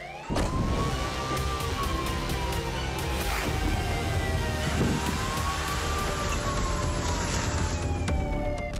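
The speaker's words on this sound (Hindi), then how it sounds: "शहरों में सायरन बज रहे हैं।" Wailing air-raid sirens in a Ukrainian city during a Russian missile attack rise and fall continuously over steady city traffic noise, loud and close, with several overlapping tones sweeping up and down.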